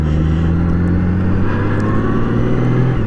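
A car towing a trailer on a bumpy road makes a loud, steady engine and road rumble heard from beneath the trailer, with shifting tonal drones and no voices.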